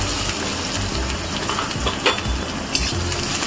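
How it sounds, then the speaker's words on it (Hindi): Onions sizzle and crackle in hot oil with cumin, a dense, steady frying hiss with a few sharper pops and occasional stirring clatter. "जीराटा टिके फुटी गला परे हम एते पियाज पके।"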